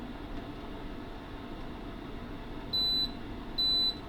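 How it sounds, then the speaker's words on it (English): Two short, high electronic beeps from an Aurora Aqua Optima hot and cold water dispenser, spaced under a second apart over a steady low background hum. "it's done a double beep at me"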